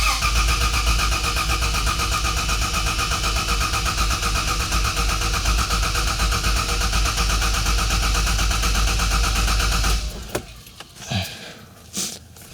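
A Toyota Land Cruiser 80 engine cranks with a steady loud starter drone for about ten seconds, then cuts off, leaving a few short clunks and scrapes.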